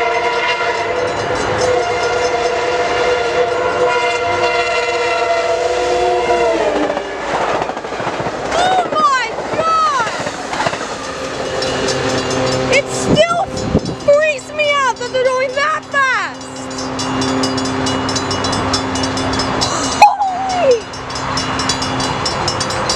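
An Amtrak passenger train passes at Rancho San Juan Capistrano, its loud multi-tone horn blowing in long blasts, followed by rushing wheel noise, clattering cars and squealing flanges, with further horn bursts near the end.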